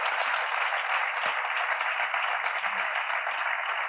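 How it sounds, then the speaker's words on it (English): Audience applause following a roundtable panel on international vocational education, a steady dense wash of clapping held at an even level throughout with no voices breaking through. "Please give a round of applause to Don Ward, Stefano Tirati, Madeleine Jonsson"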